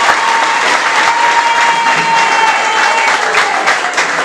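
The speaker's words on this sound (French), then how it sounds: "je demande à toute l'Assemblée d'applaudir les deux écoles" A school assembly applauds two competing schools at a quiz-contest final, a loud, steady wash of many hands clapping that holds evenly throughout without a break.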